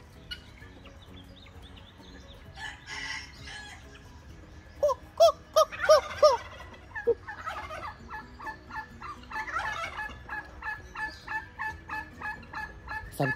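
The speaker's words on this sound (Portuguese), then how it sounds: "E a perua, quando ela faz essa vocalização" A turkey hen calls close by, with a quick run of sharp, repeated yelps followed by a longer series of rhythmic clucking notes, clear and fairly loud over quiet farmyard background.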